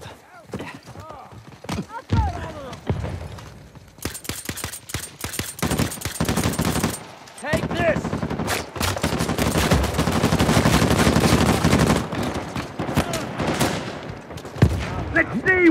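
Heavy, sustained automatic gunfire and scattered shots fill a Rooftops Team Deathmatch match in Uncharted 4 multiplayer, loud and nearly continuous with brief pauses, while voices shout over the battle.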